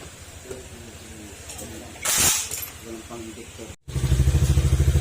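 A Honda Click scooter engine idles after an injector fix, a close, steady, pulsing putter that grows louder near the end, with a brief clink and a voice talking over it earlier.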